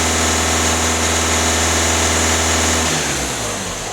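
A VW Caddy 1.6 TDI diesel engine holds at about 2500 rpm, a steady mid-pitched drone that drops off near the end as the revs fall back.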